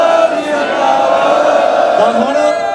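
A crowd at a Fresno memorial gathering for Deep Sidhu roars a Sikh jaikara chant in unison, a loud sustained collective shout with a rising call near the end.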